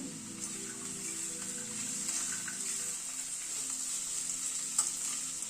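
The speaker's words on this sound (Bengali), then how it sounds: "পেঁয়াজটা একটুখানি হালকা ফ্রাই করে নেব" Onions and green peas fry in oil in a pan, a soft continuous sizzle with faint crackles and a light stir, quiet and close, with no talking.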